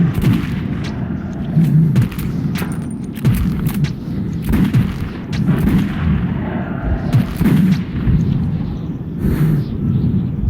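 Repeated pistol shots in the Metro 2033 video game, several loud bursts scattered across the stretch over a dense, rumbling game background.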